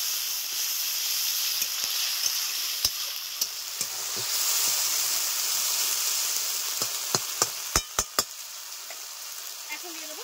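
Onions, tomato and spice paste sizzle in a pan with a continuous frying hiss, broken by several sharp clicks and taps of a utensil stirring, clustered near the end.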